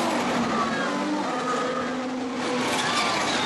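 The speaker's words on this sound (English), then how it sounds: "You can just kind of see a little bit of the car from here. But you can at least hear it." Formula 1 race car at the Singapore Grand Prix, heard from a spectator spot as a continuous, loud, high-pitched engine whine, sustained and steady across the whole stretch with no talking.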